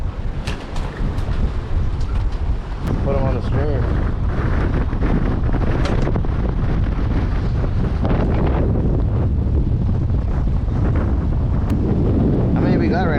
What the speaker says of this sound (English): Even though it's a rough, super windy night